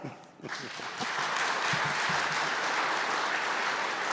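An audience at a formal ceremonial academy breaks into applause. It starts after a brief pause and quickly swells into sustained, dense clapping that fills the room.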